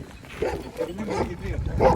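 A Kangal shepherd dog barks and yips at a rival dog outdoors, a few short sharp calls mixed with nearby people talking.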